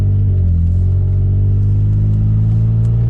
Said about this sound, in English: hopefully you can hear the exhaust a little bit, just hearing that little tone to it